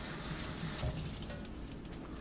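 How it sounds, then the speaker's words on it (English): Tap water runs steadily into a sink as fresh basil is rinsed, a continuous close gush with a faint voice in the background. "Should I wash this? Yeah, I'll wash it."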